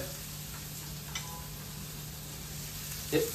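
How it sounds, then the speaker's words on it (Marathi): Ginger-garlic paste sizzling in a hot pan while making paneer 65: a steady, even frying hiss runs throughout, with a small clink near the end. "आता सुरुवात करतो मी याच्यात अद्रक लसूण टाकण्यासाठी।"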